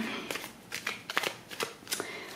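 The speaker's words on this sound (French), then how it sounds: "Et je vais déposer sur la table 5 cartes." Oracle cards are set down one after another on a table, giving a series of soft, crisp slaps and slides that come close together, each brief and fairly quiet, with no talking.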